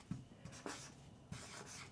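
Marker or chalk scratches and rubs against a classroom board in short strokes and pauses, soft and close with no talking.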